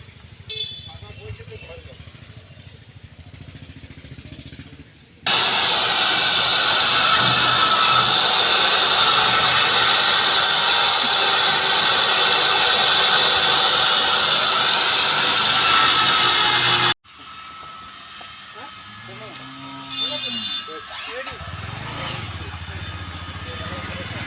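A motorized drilling machine at a garbage dump site roars loudly and steadily for about twelve seconds, nearby, between stretches of outdoor talk.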